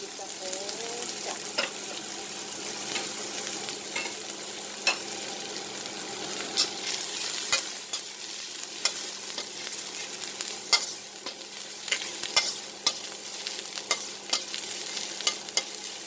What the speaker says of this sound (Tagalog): magigisa ako ng garlic, onion